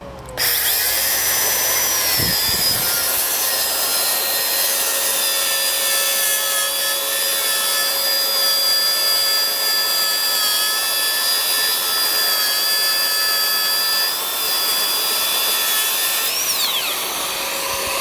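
A Makita dustless circular saw spins up and cuts through wood in one long, steady pass, a loud close whine with a grinding edge, then winds down at the finish.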